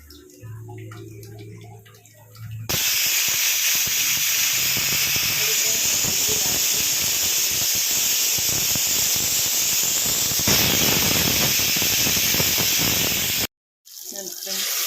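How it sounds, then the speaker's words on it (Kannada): A pressure cooker cooking sprouted chickpeas bursts into a loud, continuous steam hiss with a high whistle that runs for about ten seconds, cuts out abruptly and briefly resumes, after a quieter kitchen opening. "ಕುಕ್ಕರ್ 2 ವಿಜಿಲ್ ಹಾಕಿಸ್ಕೊಳ್ತಾ ಇದ್ದೀನಿ."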